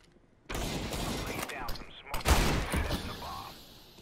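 Rapid bursts of gunfire from Counter-Strike: Global Offensive gameplay, loud and close, with a cluster of shots ending in a headshot, while players talk excitedly over it.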